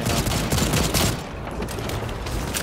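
Pistol gunfire in the video game Second Extinction, a quick string of close, loud shots over a dense game soundscape, brief and continuous.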